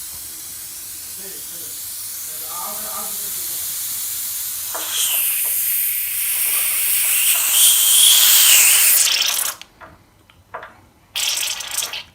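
Air hisses steadily out of an opened radiator bleed valve, the sound swelling louder before it cuts off and sputters in short bursts.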